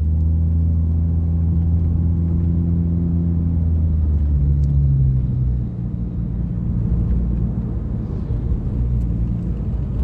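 Honda Jazz RS with an automatic transmission, its exhaust giving a steady low rumbling drone heard from inside the car, holding level, then dropping slightly in pitch partway through, with no talk.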